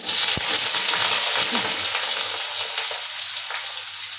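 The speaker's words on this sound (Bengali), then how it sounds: "কড়ার মধ্যে এই বেগুনগুলো দিয়ে দিলাম, এগুলো ভেজে নেবো" Eggplant (brinjal) pieces fry in a hot kadai with a steady, loud, dense sizzle that eases slightly over time, accompanied by a brief clink and some stirring sounds near the start.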